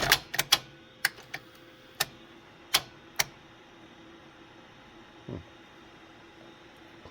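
A JVC BR-S611U S-VHS VTR with an error-36/32 fault clicks and clacks as it loads a tape: a quick burst of sharp mechanical clicks, then a few spaced single clicks and a softer clunk, close and alone.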